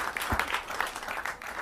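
Applause from the audience at an Independence Day poetry gathering, a fairly faint patter of scattered clapping that continues throughout, heard at a distance.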